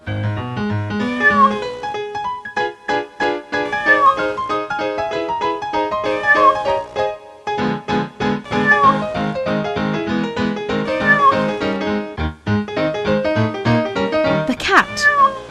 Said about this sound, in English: The housekeeper brought a pet cat from the town.